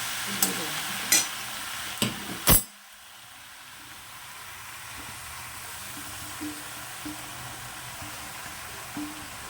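Banana flower tipped into a pan of cooked potatoes with turmeric, giving a few sharp clattering hits and a bright scrape, then a soft, steady sizzle that fades to a quiet simmer.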